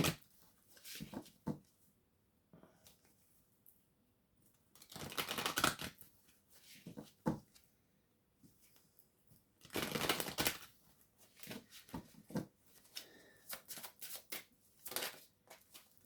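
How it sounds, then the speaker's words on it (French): Tarot cards being shuffled by hand, soft riffling bursts that come in uneven clusters with quiet gaps between them, close and fairly faint. "je vais brasser parce que les énergies"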